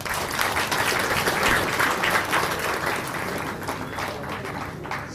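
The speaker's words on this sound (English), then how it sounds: "Give a big clap to meditation." An audience at a meditation leaders' conference applauds, dense sustained clapping from many hands that fades slightly toward the end.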